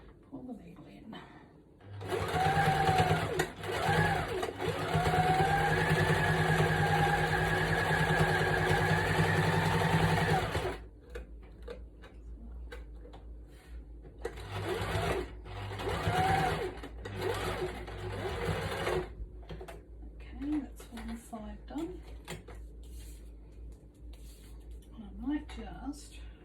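A sewing machine stitches lines on lace for a craft journal, a close, steady mechanical whirring in one long run followed by shorter bursts, with a person talking during the pauses between runs.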